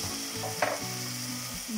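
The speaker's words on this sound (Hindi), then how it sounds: "थोड़ा जो पानी मैंने मिक्सर में बाकी रह गया था वो इसमें ऐड कर रही हूँ" Tomato masala sizzles and fries in a pan as leftover water from the grinder is poured in and stirred, with a brief hiss and splash over steady, close frying and no speech.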